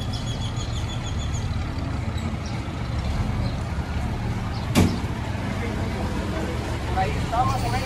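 A bus engine idles and rumbles at the end of its route near Puerto Vallarta, steady and moderately near under people talking, with a single sharp knock partway through.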